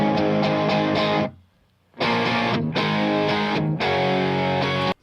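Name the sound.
guitar with mono reverb effect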